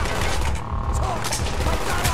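Gunfire in Call of Duty Black Ops: a loud, unbroken barrage of rapid shots and booms from several directions at once, dense and close, with no talking.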